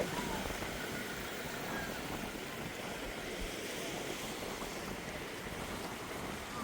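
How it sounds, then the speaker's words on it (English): Sea waves washing onto a clean, clear beach where people swim, a faint, steady broadband wash with gentle surges and light wind, no voices. "I love the sea."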